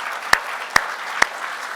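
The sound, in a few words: conference audience applauding panelists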